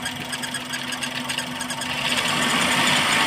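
An engine is revved lightly while a sensor tester is connected, its steady idle rumble building into a louder, fuller drone toward the end, close by and with no voices.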